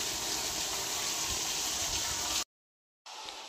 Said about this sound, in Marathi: पाणी भरून घेतलं